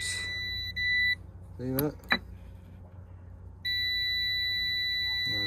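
A multimeter continuity test gives a steady high electronic beep briefly, which cuts out during some clicks and a short spoken remark, then returns and holds continuously.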